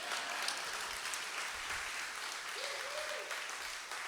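Applause fills a breakfast awards event for a public health association: a steady wash of many hands clapping, moderately distant, holding evenly for several seconds without speech over it.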